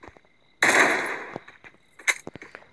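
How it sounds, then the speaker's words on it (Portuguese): MP5 gunfire in the Free Fire video game: a single sharp, loud burst of shots rings out, followed by a shorter second report and faint scattered clicks, with no talking. "Atirei aqui sem querer, né?"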